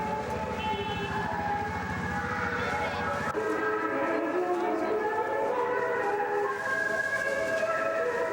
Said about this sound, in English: The train trip from Wuxi to Shanghai provides time for playing